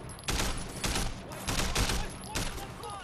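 Gunfire in Sleeping Dogs, loud sustained bursts of rapid shots in waves, close and continuous, with no talking over it.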